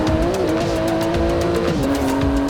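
Street-legal racing car in Forza Horizon 4 driven hard, with a loud, close engine whine and tires squealing as it skids through a corner, no talk.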